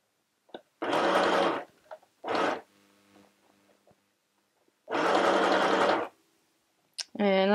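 A NEX FHSM 505 portable mini sewing machine stitches fabric in several separate bursts of buzzing, rapid needle action: two short runs, a longer one, then a final start. The room is quiet between bursts, with faint clicks.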